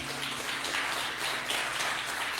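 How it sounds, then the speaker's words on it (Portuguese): A church congregation claps and applauds for the pastor during a worship service, a steady wash of many hands that holds at an even level from start to finish, with no voices standing out. "Aplauda o seu barulho do pastor Tiago, em nome de Jesus."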